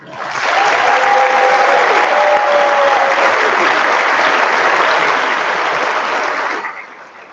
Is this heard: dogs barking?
no